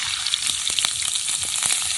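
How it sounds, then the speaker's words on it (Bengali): Cumin seeds and bay leaves crackle and sizzle loudly in hot oil left from frying potatoes, a dense steady hiss with quick popping spits close by and no talking. "এবার আলু ভাজার তেলে ফোড়ন দিচ্ছি"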